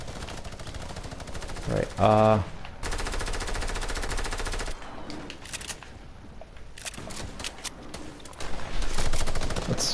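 SMG gunfire in Fortnite, dense rapid bursts of automatic fire in several stretches, with a short metallic pickup chime and other game effects, someone talking briefly over it.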